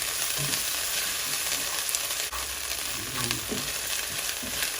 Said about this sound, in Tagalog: Hayaan po natin maluto ang bagoong.